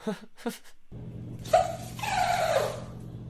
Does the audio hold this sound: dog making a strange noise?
yes